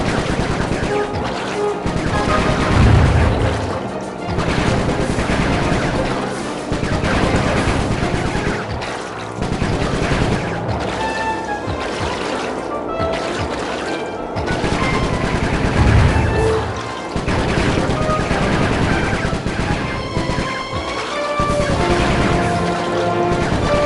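Sly 3 gameplay on PS4 fills with rapid machine gun fire, loud and nearly continuous bursts rattling without pause over dense game sound.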